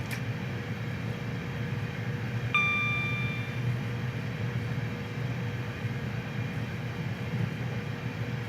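A Southeastern Class 375 electric multiple unit runs through a fairly lengthy tunnel in the Train Simulator 2017 game, on the London Victoria to Faversham route, giving a steady low rumble throughout with a brief chime near the start.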